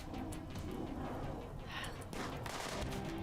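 Characters trade gunfire in RimWorld: faint, scattered small shots crackle at a distance over a low, steady game hum.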